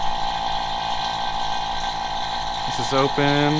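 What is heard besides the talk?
AC vacuum pump starting on Ferrari F430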